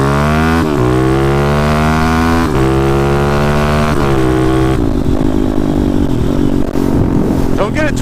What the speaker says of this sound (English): it's popping a little bit when I rev it up